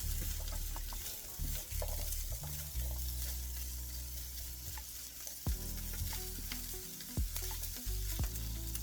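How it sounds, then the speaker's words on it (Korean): Sausages and garlic sizzle steadily in a hot pan while being stir-fried, a loud continuous crackle broken by scraping stirs and an occasional clack of the utensil. "마늘도 노릇노릇해질 때까지 잘 볶아줍니다"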